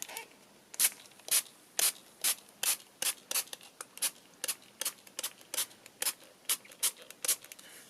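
A hand spray bottle spritzes water onto an art background made with drywall tape and PaperArtsy Infusions, about twenty quick, crisp hissing bursts in a fairly even rhythm, close and alone.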